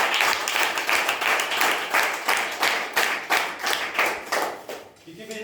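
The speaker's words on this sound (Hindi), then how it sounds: "मैं चाहूंगा इनके लिए एक बहुत जोरदार तालियां" An audience claps hard in a quick, regular rhythm, loud and close throughout, tapering off near the end as a voice begins to speak.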